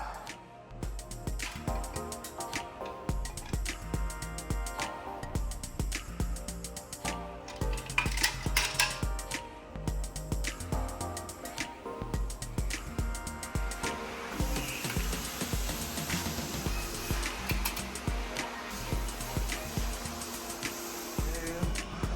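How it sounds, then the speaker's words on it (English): A brown marble shower surface being polished, a continuous whirring machine grind with scraping and clattering textures that grows brighter and hissier in the second half, with no talking. "And I'm polishing this marble."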